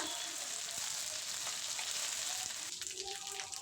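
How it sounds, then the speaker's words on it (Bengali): Ginger garlic paste and green chilli paste fry in a pan while being stirred, a steady close hiss and sizzle with occasional soft scraping, the sizzle easing slightly toward the end. "এবারে দিয়ে দেবো আদা রসুন বাটা কিছুক্ষণ নাড়ব যাতে আদা রসুনের কাঁচা গন্ধ চলে যায়"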